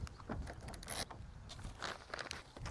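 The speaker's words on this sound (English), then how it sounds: "simply take one of the washers and the screws, and starting from the middle, you are going to secure down the hood deflector." Screws with washers driven down by hand to fix a bug/hood deflector onto a 2020 or newer third-generation Kia Soul, giving short close mechanical turning and ratcheting clicks with a small metallic scrape, no speech.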